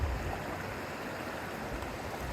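A river flows steadily with a soft, even rushing wash, distant and faint, heard alone without voices.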